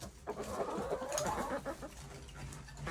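Chickens and a rooster being let out of their coop in the morning, a busy stretch of clucking and crowing bird calls close by, steady throughout with no talking.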